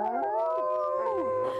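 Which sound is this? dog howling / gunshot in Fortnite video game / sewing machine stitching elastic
dog howling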